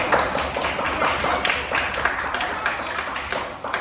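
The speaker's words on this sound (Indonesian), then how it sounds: "Ya, tepuk tangan bersama-sama." A classroom of students clapping their hands together in applause, a dense, steady patter of many hands filling the room, loud and continuous with faint voices mixed in.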